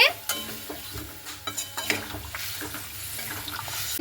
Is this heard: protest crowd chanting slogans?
no